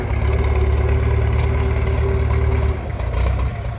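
An old Soviet-made tractor still in use in Laos idles with a steady low chugging drone, loud and close, holding an even tone before the engine note shifts briefly near the end.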